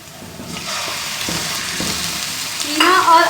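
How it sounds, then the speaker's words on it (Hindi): Minced meat (keema) with ginger garlic paste hits a hot pan over lightly pinked onions, giving a steady broadband sizzle that swells louder near the end, with soft stirring scrapes and no voices. "कीमा और अदरक लहसुन का पेस्ट, ये चीज़ें शामिल करके मैं इसे भूनूंगी।"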